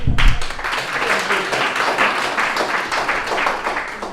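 An audience at a Rotary Club gathering claps to welcome a speaker, a loud, sustained burst of many hands opening with a sharp thump and continuing steadily throughout.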